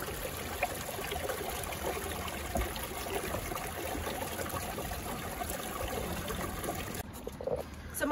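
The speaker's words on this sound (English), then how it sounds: "Ooh, nice quick moving water, but not as quick as Griffin." Steady, continuous rush of fast-flowing river stream water, close and even throughout with a brief dip near the end.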